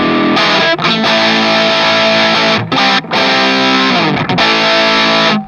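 Electric guitar driven through an external distortion pedal into a Flamma FS06 preamp, playing loud, thick saturated chords that ring out with a few brief gaps between phrases.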